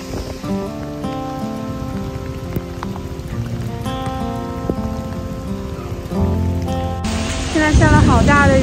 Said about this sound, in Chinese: 现在下了好大的雨哦。